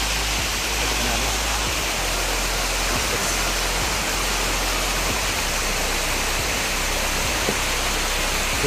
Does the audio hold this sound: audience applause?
no